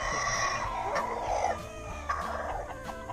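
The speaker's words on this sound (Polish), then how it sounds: "w taki sposób koguty ostrzegają kurki" A rooster gives a sustained, harsh warning call as a large bird flies overhead, with clucking hens and other fowl in the background.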